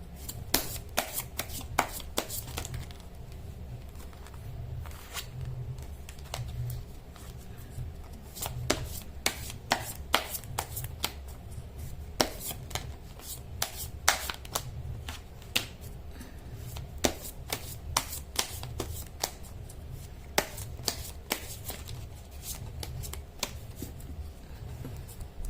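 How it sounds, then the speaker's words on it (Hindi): Tarot cards shuffled by hand in a steady run of quick papery riffles and snaps, close and continuous over a low background hum. "कर लेते हैं कार्ड की शफलिंग।"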